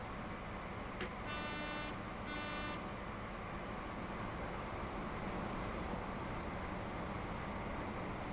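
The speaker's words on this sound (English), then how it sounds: "We have to honk a lot now." A train horn in Train Sim World 4 sounds two short tonal blasts in foggy Midlands UK driving, faint and distant over a steady rumbling engine and track noise.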